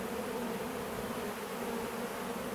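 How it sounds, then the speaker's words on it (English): A dense swarm of bees hums steadily and loudly just after being poured from a bucket into a hive, with no voices. "I've just poured the bucket of bees into the hive"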